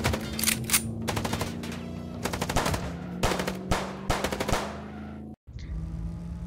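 Automatic gunfire rattles in rapid bursts during a car chase in the Chicken Police video game, loud and close, with short pauses between volleys before cutting off abruptly near the end.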